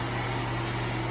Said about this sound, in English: Sorry about the noise from the AC.